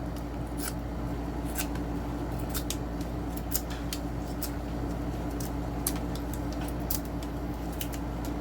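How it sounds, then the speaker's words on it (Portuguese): A pocket knife whittles a piece of very hard wood, each cut a crisp, dry snick, coming singly and in small clusters at an uneven pace over a faint, steady background hum. "Vamos descascar mais um pedacinho"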